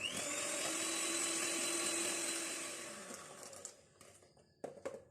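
An electric mixer or blender whirs steadily while beating eggs into butter cake batter, a loud continuous motor drone that fades out near the end and leaves a few clattering knocks.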